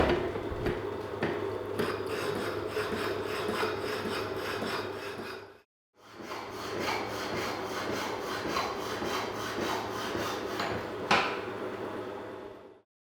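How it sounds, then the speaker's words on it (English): A metal plate is cut on a shaper milling head for welding-practice pieces, a loud rhythmic rasping stroke repeating steadily, briefly pausing once midway before resuming. "So now I can chop that away with confidence. I'm going to cut this plate twice"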